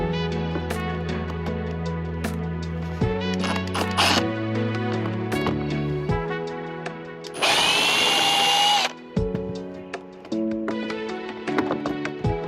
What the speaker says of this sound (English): we're going to do that by unscrewing this plastic screw.